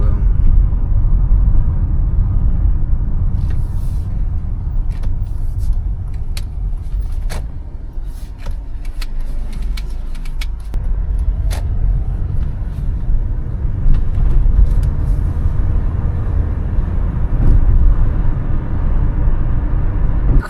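Taxi car driving through Dnipro, a loud steady low road rumble from inside the cabin with scattered clicks and rattles throughout.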